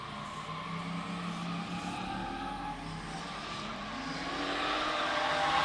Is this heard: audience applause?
no